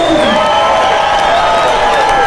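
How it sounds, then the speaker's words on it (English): A comedy club audience at a stand-up show in Phoenix roars with sustained applause and cheering, a dense, loud wall of clapping and whoops with no pauses. "Let's give a big round of applause for all the comedians you've seen tonight"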